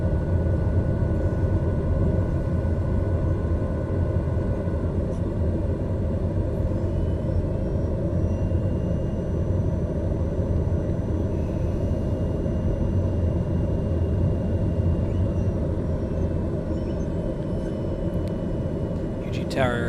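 A TBM930 turboprop in Microsoft Flight Simulator gives a steady, continuous engine drone and low rumble that holds at an even level throughout, with no pauses.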